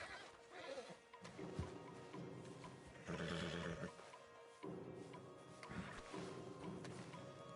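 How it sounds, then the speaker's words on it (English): Horses neigh and whinny repeatedly in Red Dead Redemption 2, several loud bursts spaced a few seconds apart over a low background. "Marston, you're gonna tether him up to Javier's horse"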